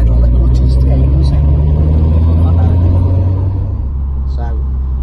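A 400bhp Ford Escort RS Cosworth with a cable clutch rumbles loudly as its engine is given small blips of revs while pulling away, a steady low drone under continuous talk from people inside the car.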